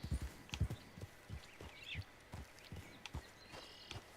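Horse hooves clip-clop at a steady trot in a video game, a run of sharp soft thuds close by with faint ambient tones in the background.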